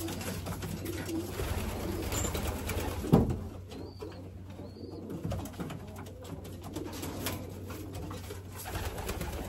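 Soft, low pigeon coos murmur nearby in a racing pigeon loft under a steady background hum, with a brief rustle or knock partway through.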